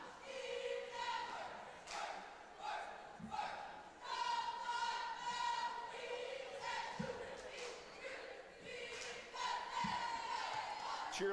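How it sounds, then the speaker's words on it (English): High school cheerleaders cheer in unison at a basketball game in a gym, their chant ringing over a constant crowd roar with occasional ball thuds. "That's the Heights cheerleaders that you hear as it is their turn to cheer."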